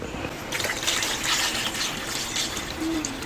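Water poured into a pot holding about a kilo of beef ribs, a steady splashing gush that starts after a brief pause and keeps running at close range without speech.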